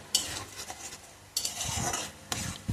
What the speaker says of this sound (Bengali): যতক্ষণ না হবে শুকনো হবে আমি ততক্ষণটা এটা নাড়বো